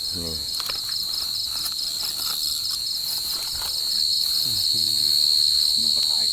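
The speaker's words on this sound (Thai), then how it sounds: "จิ้งหรีดนี่" Crickets being dug out of the ground in a field give a steady, close, pulsing high trill that runs throughout, with a few brief voices underneath.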